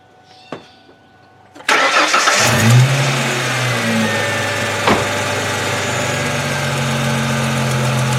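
A 2002 Ford Mustang with a 3.8 V6 cranks and catches, then settles into a steady, loud idle with engine flush additive in the oil, running alone without talk.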